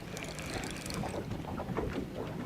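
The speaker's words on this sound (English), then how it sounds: "God, this wind." Wind gusts across a small fishing boat, a faint, continuous rushing and buffeting with no voices.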